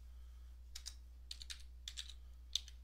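A computer keyboard is typed on in several quick bursts of light clicking keystrokes, faint and close, separated by short pauses over a low steady hum.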